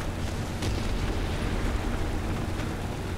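Artillery barrage pounding down around a tank in War Thunder, a steady loud rumble of explosions with a sharper blast near the start, continuous and dense with no voices.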